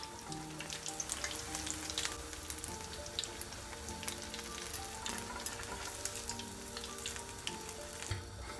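Potato slices with their skins on fry in hot oil for beer-house fried potatoes, giving a steady dense sizzle and crackle throughout with small pops, no voices over it.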